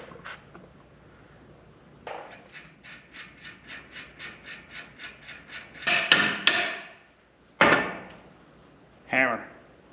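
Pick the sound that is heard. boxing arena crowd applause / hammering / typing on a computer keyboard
hammering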